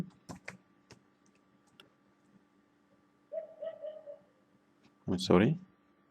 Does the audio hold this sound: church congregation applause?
no